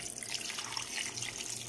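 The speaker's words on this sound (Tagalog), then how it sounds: "lagyan natin ng tubig" Water runs steadily from a kitchen tap into a cooking pot, a constant hissing splash heard close and alone.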